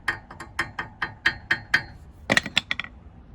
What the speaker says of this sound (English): I come over here to the cart and I just tap on the wheels to break some things off